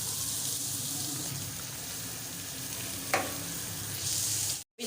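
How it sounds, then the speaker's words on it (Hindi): Cabbage frying in a pan over a high flame while cooking chicken and vegetable fried rice, a steady close sizzle throughout with one brief clink near the end. "कैबिज भी डाल के अच्छे से मैंने फ्राई कर लिया।"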